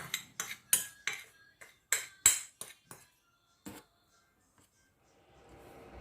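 A spoon clinks and scrapes against a bowl while herbs and spices for baked chicken breast are mixed, about a dozen sharp close taps in quick irregular rhythm, then a few sparse clicks and faint rustling.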